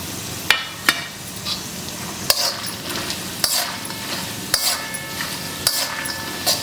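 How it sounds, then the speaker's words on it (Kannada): Coconut pieces and peanuts fry over a low flame for poha chivda, a steady close sizzle punctuated by sharp clicks of a utensil striking the pan at intervals. "ಇದು ಚೆನ್ನಾಗಿ ಕ್ರಿಸ್ಪ್ ಆಗೋವರೆಗೂ ನಾವು ಇದನ್ನು ಫ್ರೈ ಮಾಡ್ಕೊಳ್ಳೋಣ ಇವಾಗ ಕೊಬ್ಬರಿ ಪೀಸ್ ಮಾಡ್ಕೊಂಡ್ಬಲ್ಲ ಇದನ್ನು ಹಾಕೊಂಡ್ಬಿಡೋಣ"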